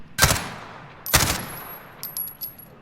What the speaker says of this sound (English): now I'm gonna shoot 5 bullets